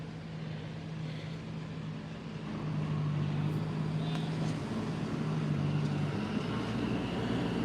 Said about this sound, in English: There's a tractor, Jake, sir.